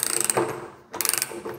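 Parkside Performance 20V ratchet wrench with a long 360° rotating head, worked by hand, giving two quick bursts of sharp ratcheting clicks split by a short pause, close and alone.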